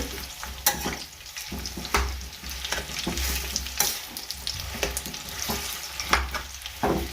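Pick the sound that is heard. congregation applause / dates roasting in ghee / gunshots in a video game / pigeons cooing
dates roasting in ghee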